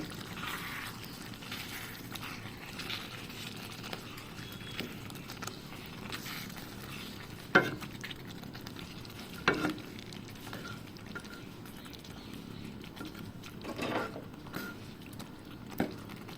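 Beef rezala pieces are stirred in a pot after extra water is added, a soft continuous simmering sizzle broken by occasional spoon knocks and scrapes against the pot, close and quiet, with no talking.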